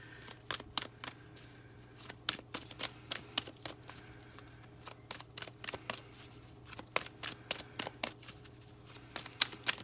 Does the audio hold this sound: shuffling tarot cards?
yes